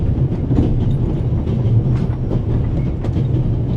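A train rolls along its tracks in The Raven - Legacy video game, a steady, close, low rumble with soft rhythmic clicks of the wheels running throughout, with no talk.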